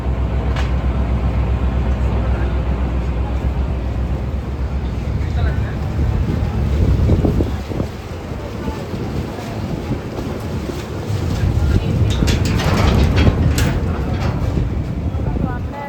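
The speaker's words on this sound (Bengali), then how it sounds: "আমাদের নৌকা যাত্রা শুরু হয়ে গেছে।" A boat motors along the Ganges, its steady engine rumble mixed with wind buffeting the microphone and water wash, continuous throughout with swells of louder noise.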